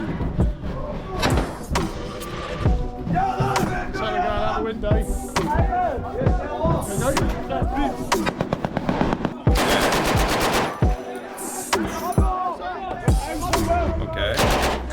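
Rapid bursts of automatic gunfire and single shots crack repeatedly during Danish military conscription training in a bunker, loud and close, with shouting voices mixed in.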